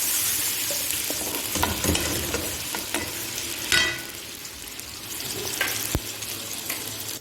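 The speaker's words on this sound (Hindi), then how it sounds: "अब मैं इसमें ऑयल डाल रही हूँ।" Cooking oil being poured into a pan while making beef karahi kebab, with steady sizzling and frying in a home kitchen, a sharp hissing burst midway and occasional utensil knocks, close and moderately loud with no talking.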